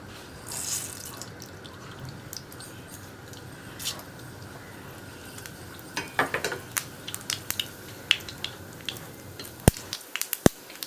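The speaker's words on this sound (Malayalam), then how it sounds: "അപ്പോൾ നമ്മുടെ വെളിച്ചെണ്ണ ചൂടായിട്ടുണ്ട്. നമുക്കിതിലേക്ക് കടുക് ചേർക്കാം." Mustard seeds hitting hot coconut oil in a pan for potato thoran, a low hiss with sparse crackles that become sharper, more frequent pops in the second half, fairly close and with no voices.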